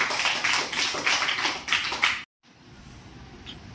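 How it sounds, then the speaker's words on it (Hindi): A class of children claps together for a classmate in a quick, rhythmic burst of hand claps that stops abruptly, leaving a quiet room. "गोरी के नाम की ताली लगाओ।"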